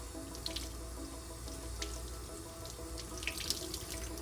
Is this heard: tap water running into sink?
yes